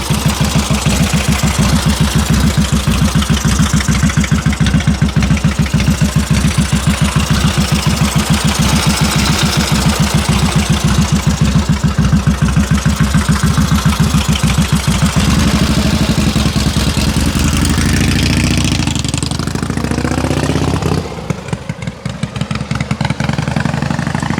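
A restored concours 1937 Indian Chief 74ci motorcycle engine idles close by with a steady, loud low-frequency thump, then revs briefly near the end before settling, with no talking.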